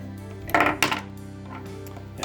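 Small screws are turned out of a Polar Pro Katana tray for a Mavic Pro drone, heard as a few close metallic clicks and clinks, two sharp ones early, then softer taps.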